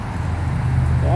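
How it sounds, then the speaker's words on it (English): A car approaches on a road near a huge Moreton Bay fig tree in Santa Barbara, California, heard as a steady low engine and tire rumble that swells slightly, with a person talking over it. "Wow, there's a car coming."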